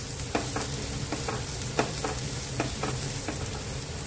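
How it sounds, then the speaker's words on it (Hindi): Finely chopped carrot and other vegetables sauté in a hot pan, a steady close sizzle broken by repeated scraping stirs of a spoon, with no talking. "और इसे थोड़ा सा सोते कर लेते हैं।"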